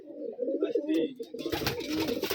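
A pair of pigeons cooing in an old loft of Rajshahi Giribaj pigeons, soft repeated throaty coos close by, joined partway through by someone talking and louder rustling background noise.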